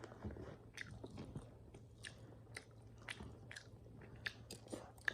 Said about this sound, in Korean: 콘도 한번 먹어볼게요.